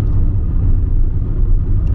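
A car drives along a road through a village near Chisinau, heard from inside the cabin as a loud, continuous low rumble of engine and tyres, with no talking.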